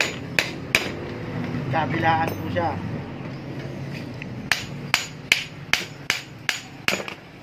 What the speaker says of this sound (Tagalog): Ang pagpalo po ng martilyo dito po sa ulo niya.